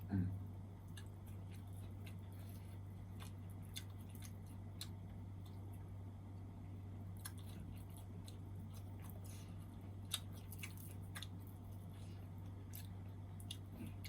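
Someone chews som tam papaya salad with crisp fried fish, producing soft, repeated crunchy and squishy bites close up over a low steady hum, with no talking.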